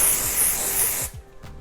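A hair product spray bottle releases a loud, close burst of hissing mist for about a second, ending abruptly in near silence.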